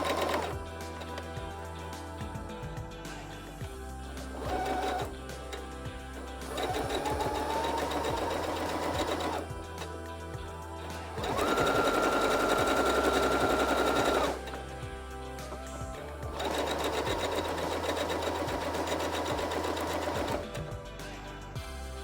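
A sewing machine stitches a pillowcase seam with forward runs and backstitching, a steady mechanical whirring in several bursts of varying speed separated by short pauses, close and alone.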